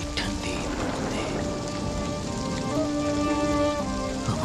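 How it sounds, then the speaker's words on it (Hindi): Steady rain falls and patters on surfaces at night, with a sustained hiss and a faint distant rumble beneath. "बारिश की ठंडी ठंडी बूंदें"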